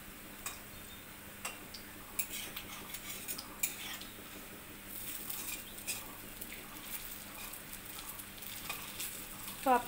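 Lentil fritters (masoor dal bora) fry in a kadai, a soft, low sizzle broken by small ticks and clinks of utensils against the pan, fairly faint and close.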